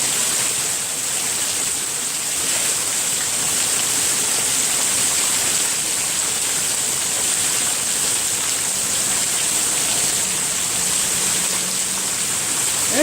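Heavy rain pouring during a severe thunderstorm, a dense unbroken hiss of downpour that holds steady and loud throughout, with no voices.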